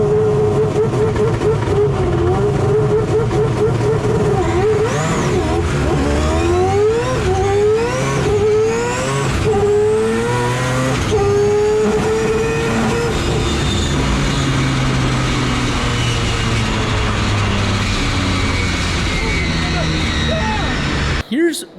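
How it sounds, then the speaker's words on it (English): A four-rotor race car launches hard, its engine screaming through rapid rising gear sweeps for about twelve seconds before settling into a loud steady drone, close and continuous throughout. "Now it's time to just launch the car."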